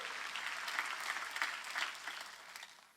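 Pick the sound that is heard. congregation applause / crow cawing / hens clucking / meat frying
congregation applause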